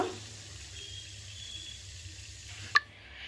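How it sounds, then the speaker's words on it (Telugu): Rice being rinsed in water in a kitchen before soaking for bed dosa batter, with soft continuous sloshing and a brief sharp clink near the end, fairly quiet and without talk. "ఇప్పుడు దీన్ని బాగా కడుక్కోవాలన్నమాట ముందు వాటర్లో"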